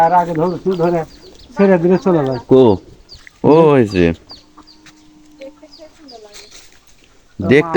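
Duck chicks calling in a village setting, high thin peeping heard in quieter gaps between close, loud stretches of talking.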